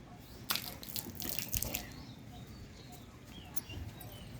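Dirty water beginning to run out of a pipe drawn from a water tank during cleaning, irregular splashes and gurgling spurts, close and fairly faint, with a few sharper bursts early on.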